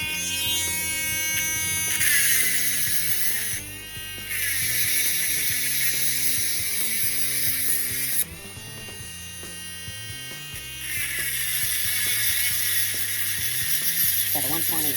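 A Dremel rotary tool with a coarse 120 bit whines loudly and continuously at high speed, its pitch dropping briefly a few times as it bites into the material being cut.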